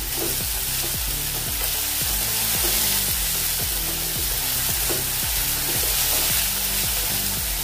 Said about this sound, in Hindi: इसको थोड़ा सा कलर आने तक और नरम होने तक भूनेंगे।